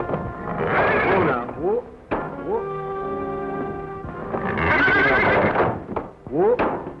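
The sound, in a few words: horse whinnying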